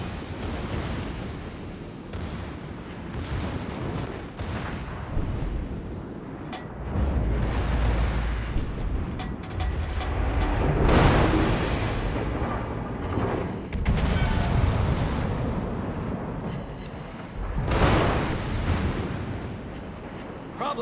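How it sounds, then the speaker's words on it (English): Heavy battleship shell impacts and roaring booms in World of Warships, with surging blasts swelling and fading over about twenty seconds amid a continuous wash of noise. "And I just love how the last shell sets me on fire."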